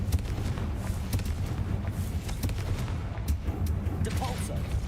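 Confringo fire spell blast in Hogwarts Legacy, a burst of explosive game impacts and crackling blasts over a dense, continuous rumble, with several sharp cracks spread across the stretch.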